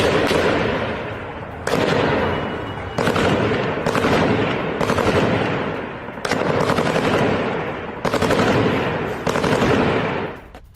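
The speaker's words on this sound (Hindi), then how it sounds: "IRGC के सैनिक अंधाधुंध फायरिंग करते नजर आए।" Rapid automatic gunfire from soldiers firing indiscriminately during protests in Iran, several long loud bursts of shots separated by brief gaps, harsh and close, no speech.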